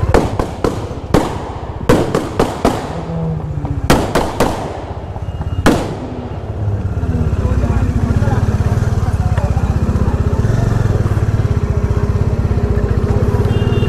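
Motorcycle engine at a college auto expo: a burst of sharp, loud exhaust pops and bangs in the first few seconds, then a steady, loud, continuous engine roar held for the rest of the clip.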